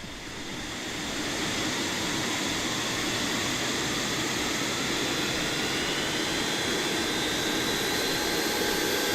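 Aircraft engine spooling up in the airport ground-handling game AirportSim, a steady broadband jet roar that swells over the first second and then holds loud and constant, with a high whine on top and no talk.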